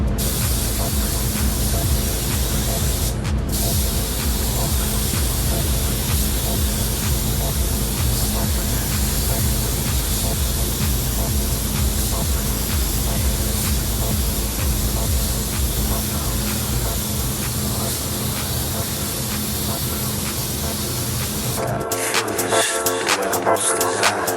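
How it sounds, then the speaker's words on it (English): A spray gun sprays sealer on a Cadillac CTS, a steady, loud hiss running almost without pause, cutting off near the end to leave a brief quieter stretch. "we're gonna start spraying sealer."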